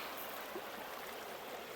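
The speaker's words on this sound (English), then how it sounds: "So as we're walking across the creek" Creek water flows steadily while someone wades across it outdoors: a constant, soft, broad rushing wash, faint and even, with no voices.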